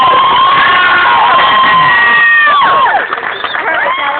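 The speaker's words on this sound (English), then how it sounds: "you guys should give yourselves a round of applause for coming out" Crowd at a George Lopez show cheering loudly, with high shouts and whoops over a dense roar and some clapping, sustained and near.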